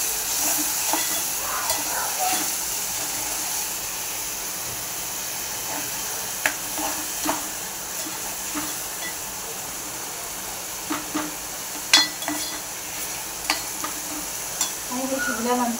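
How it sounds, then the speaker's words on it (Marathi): Curry leaves and tomato cooking in a pan with ground masala paste for a rawas fish curry, giving a steady soft sizzle with occasional stirring clinks and scrapes throughout. "कढीपत्ता आणि टोमॅटो हे सगळं छानपैकी शिजवून घ्यायचं"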